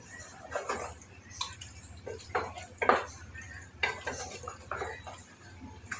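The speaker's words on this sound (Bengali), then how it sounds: "এই যে আমি মশলা অনেকক্ষণ থেকে কষাইছি, বাচ্ছি তেলে" Spices cook in oil for a mutton curry, with intermittent spatula scrapes and clinks against the pot over a faint sizzle and a low steady hum, fairly quiet overall.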